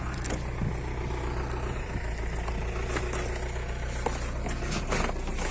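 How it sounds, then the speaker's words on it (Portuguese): A truck engine idles nearby in a steady low rumble that fills the whole stretch, with faint clicks and knocks scattered over it and no voices. "tô atrapalhando a entrada do caminhão aqui"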